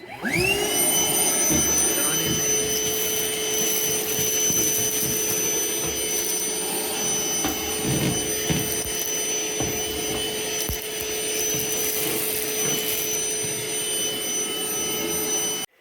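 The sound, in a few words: Milwaukee shop vac cleaning a laser machine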